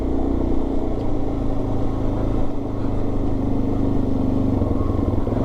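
Suzuki DRZ dirt bike engine droning steadily under load while riding up and over a rise on a trail, a close, constant single-cylinder buzz with slight pitch shifts and no talking.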